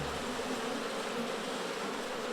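A steady, dense buzzing of many honeybees swarming close by, continuous and even throughout with no pauses.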